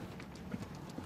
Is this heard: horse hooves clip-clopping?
yes